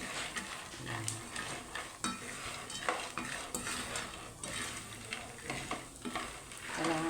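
Shelled peanuts fry in a hot pan and are stirred over and over, a quiet sizzle under repeated scraping and clinking of a utensil against the metal.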